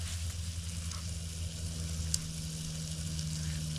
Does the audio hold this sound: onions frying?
yes